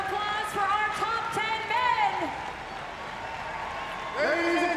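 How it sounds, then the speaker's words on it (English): Arena crowd at the 2019 Reebok CrossFit Games cheers and whoops after the final rep, with applause swelling in waves and a loud announcer talking over it. "A big round of applause"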